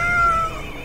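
A cartoon cat gives a single drawn-out meow, loud and close, tapering off toward the end with no talking over it.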